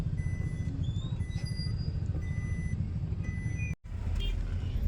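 Idling engines rumble steadily in a long line of congested road traffic behind Shivarkar Vasti, with faint high beeping from a vehicle cutting through now and then.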